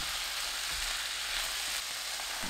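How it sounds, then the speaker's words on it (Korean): Sour kimchi, minced garlic and cane sugar sizzle in olive oil in a pan over medium heat, giving off a soft, even hiss that holds steady throughout with no voices. "중불로 켜고 3분 볶습니다."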